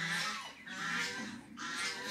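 Several ducks quack and honk in short nasal bursts, fairly faint, overlapping in a loose rhythm.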